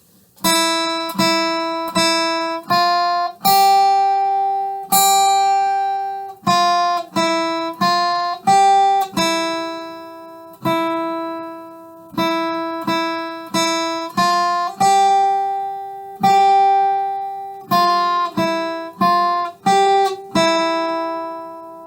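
A simple folk melody picked on the guitar's first string only, clear ringing notes in a steady rhythm with occasional held tones, played alone.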